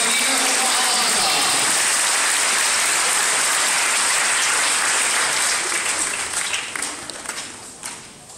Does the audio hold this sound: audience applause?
yes